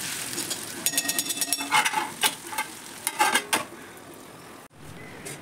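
Stuffed brinjal being sautéed and turned in a kadhai: a spatula scrapes and clinks against the pan in short bursts over a steady low sizzle of frying, up close, with no voices.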